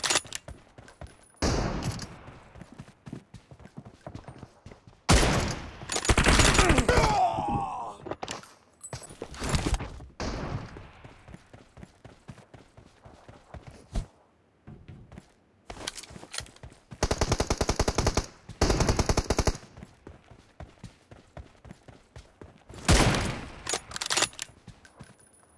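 PUBG Mobile gunfire comes in rapid automatic bursts and single sharp shots, with heavy stretches of fire separated by quieter gaps over game noise and occasional talk.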